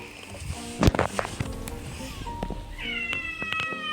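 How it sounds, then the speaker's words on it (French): A cat meows loudly up close, several drawn-out cries, with a few sharp knocks and clatters around it and a softer tonal electronic jingle near the end. "Oh, tais-toi, Minou"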